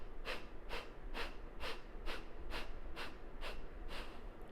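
Rhythmic breaths during a beginner breathing practice, nine evenly spaced airy bursts at about half-second intervals, close and fairly soft over a low background hum.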